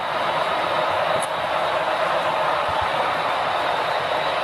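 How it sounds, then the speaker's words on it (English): A model freight train runs on a layout with a steady rolling rumble and hiss, a faint click or two of wheels on track joints, close and continuous without talk. "He stopped right at the last second, that freight train coming out of the tunnel."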